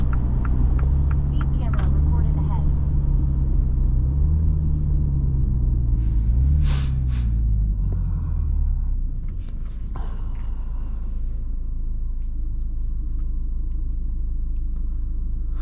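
A 2023 MINI Cooper Countryman S cruising at about 54 mph, with a steady low engine and road rumble that eases off partway through, plus light cabin knocks and faint voices.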